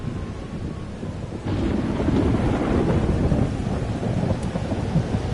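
A thunderstorm in the video game Life is Strange Double Exposure: steady heavy rain and wind that swell into a deep rolling thunder rumble midway, loud and continuous, with no voices.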